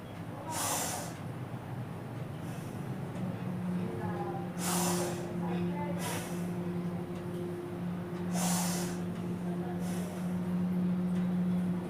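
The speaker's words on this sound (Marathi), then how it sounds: "दीर्घ श्वास घ्या दीर्घ श्वास सोडा" Deep breaths drawn in and pushed out during a stretching exercise come as slow, evenly spaced breathy bursts about every two seconds over a low steady hum.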